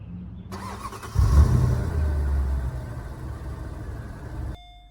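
A 2010 Mercedes-Benz SL550 AMG Roadster starts up: a brief starter whir, then the V8 catches with a loud low burst and settles into a steady idle before cutting off.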